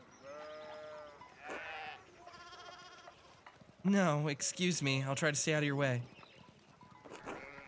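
Sheep bleat in a Bavarian countryside scene in the video game Pentiment, with several wavering, quavering calls rising and falling over a few seconds, clear and close, while a person speaks briefly over the flock.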